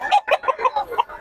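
Several chickens cluck in a quick, rhythmic series of short calls, about six bursts close together, loud and near, with no talking over them; birds left unsold at a poultry market in Bocaue.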